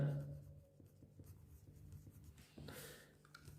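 Pen on paper, close and quiet, writes out a physics derivation of kinetic energy as half m v squared, with soft scratchy strokes running steadily under faint room noise.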